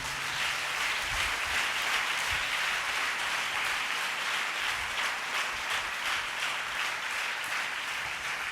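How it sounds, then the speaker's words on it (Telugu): A church congregation claps loudly and steadily during a pastor's sermon, a dense wash of many hands sustained for the whole stretch with no voices. "చప్పట్లు కొట్టాలి గట్టిగా"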